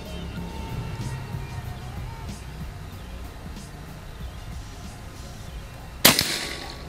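A single sharp crack from a PCP semi-automatic air rifle fired at a silhouette target stands out after several seconds of quiet outdoor ambience, followed by a short ringing tail.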